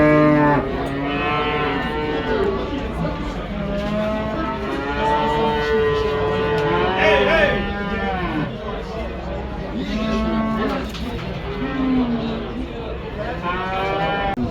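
Cattle moo repeatedly at a busy livestock market in Kyzylorda, loud, long calls overlapping one another while people talk close by throughout.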